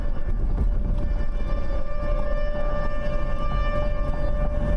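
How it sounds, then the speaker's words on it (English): An outdoor tornado warning siren in Dallas, Texas sounds continuously with a sustained, droning wail that holds steady and loud for the whole stretch. "The sirens always add to the theatrics."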